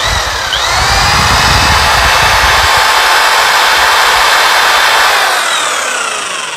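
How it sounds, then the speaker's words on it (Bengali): An electric drill running steadily after being plugged in, with a continuous loud whirring whine and rough grinding texture, close by and alone for several seconds before slowly easing off. "তো ড্রিল মেশিনটা আমি আসলে চালিয়ে দেখলাম যে সব কিছু ঠিকঠাকই রয়েছে"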